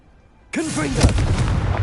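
Hogwarts Legacy's Confringo spell erupts into a loud, rumbling explosive burst that follows a quiet moment and a short voice cry, sustaining a dense crackling roar to the end.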